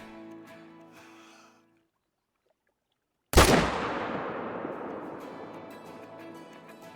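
A single loud rifle shot from the hunting game Call of the Wild, fired at a target 400 yards away, cracks sharply after a quiet pause and rolls into a long fading echo; faint game sounds come before it.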